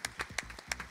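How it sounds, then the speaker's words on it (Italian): Applause at a 15th-anniversary music event, heard as a short, faint burst of a few distinct claps in an uneven rhythm. "io voglio un altro applauso per queste splendide persone"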